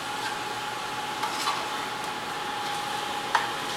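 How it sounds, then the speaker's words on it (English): Butter, shallots and spinach stirred together in a pan for a spinach gratin, giving a steady soft sizzle with light scraping and an occasional sharper clink near the end, no voices. "I'm just going to stir this around and break up the spinach and get it all mixed in with the shallots and the butter"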